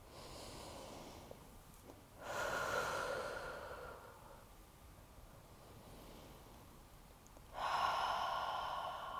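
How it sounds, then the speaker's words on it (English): Strong, steady breathing during a yoga practice, with two louder, rushing breath surges lasting a couple of seconds each, separated by quieter airflow and low background noise. "breathing nice and strong."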